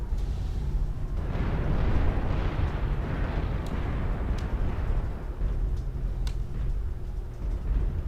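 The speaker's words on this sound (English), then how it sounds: "Artillery strike online." Rumbling artillery-strike explosions in the MechWarrior Online video game, a sustained loud roar of blasts and debris with a few sharp bursts, heard with no voices over it.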